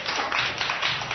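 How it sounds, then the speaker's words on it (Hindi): Children in a Class 1 Hindi classroom clap their hands together in a dense, steady burst of overlapping claps, close and fairly loud, with no talking over it. "ताली बजाओ।"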